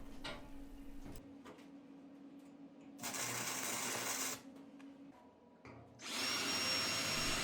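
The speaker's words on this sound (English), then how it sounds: "I can now drill holes into the supports" Power drill boring holes into small steel support tabs welded onto a built-in tool chest workbench, in two loud bursts of whining drilling separated by quieter workshop hum.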